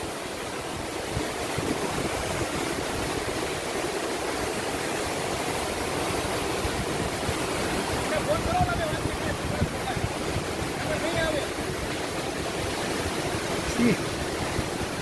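A waterfall near Manali makes a constant broadband rush of falling water, loud and even throughout, with faint voices now and then beneath the roar.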